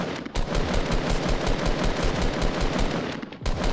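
Rapid automatic gunfire from the video game Fortnite rattles out in a dense, continuous stream of loud, closely spaced shots that continue almost unbroken, with one brief gap near the start.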